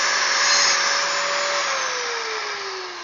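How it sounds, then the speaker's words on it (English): An angle grinder grinds an old weld off a metal piece, a loud continuous high whine whose pitch slowly drops as the disc bites in, steady with no talking. "so that grinds off the old weld from that piece"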